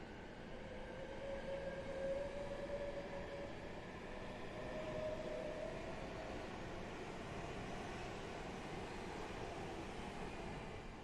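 A train departs Milton Keynes Central on the West Coast Main Line, bound for Blackpool North. A faint, distant rumble carries a drawn-out tonal whine that rises and fades as the train pulls away.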